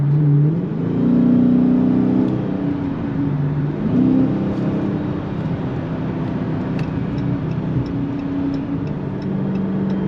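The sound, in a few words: V8 car exhaust revving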